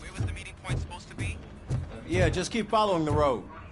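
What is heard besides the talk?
None of the usual background noises is heard.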